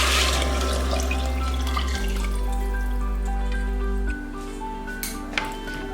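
Water poured from a tap into a pot of red lentil soup: a steady gushing, splashing flow that shifts pitch midway and then tapers off with a few small drips at the end.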